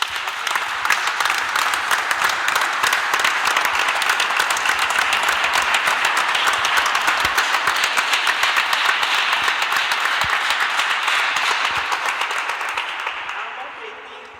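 A large congregation at a memorial mass breaks into sustained, dense applause that holds steady for several seconds and then tapers off toward the end.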